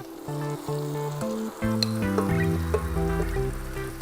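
Mutton sizzles steadily as it fries in a pan for a mutton biryani, a continuous hiss running beneath louder melodic background music.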